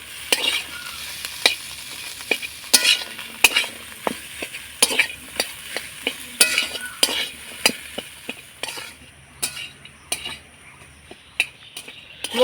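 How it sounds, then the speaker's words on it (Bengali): Potatoes stirred with a spoon in a hot pan with ground cumin and coriander, sharp scraping clinks repeating over a steady sizzle of frying, close and fairly loud with no talking. "এবার নাড়াচাড়া করে মশলাটা খুব ভালো করে আলুর সঙ্গে কষিয়ে নেব।"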